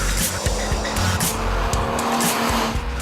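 A BMW E36 M3 with a six-cylinder engine runs on a race track, its engine note mixed with tire squeal and skidding in a continuous, loud burst without voices.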